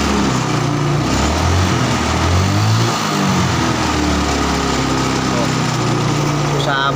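Carbureted Yamaha Mio scooter with a high idle that is slow to drop, engine droning loudly and steadily with a rise and fall in pitch as it is revved, while someone talks over it close by.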